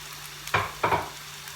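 Köfte meatballs fry in a hot pan, giving two short, close sizzling bursts about a quarter second apart with quiet between them. No one speaks.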